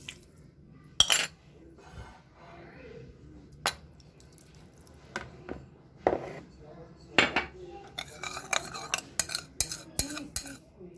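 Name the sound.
mixing ghee into dough in a bowl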